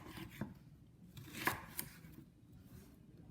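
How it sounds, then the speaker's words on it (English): A carving knife cuts and peels a butternut squash: a few quiet, irregular scraping and chopping strokes, with one sharper crunching cut in the middle, close and with no talk. "get a carving knife and scoop out the inside and peel off the skin"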